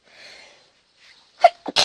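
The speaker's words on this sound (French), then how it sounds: "Je vais éternuer." A single person sneezes close to the microphone, a soft breathy intake followed by a sharp, loud burst and a short trailing blow, indoors and otherwise quiet.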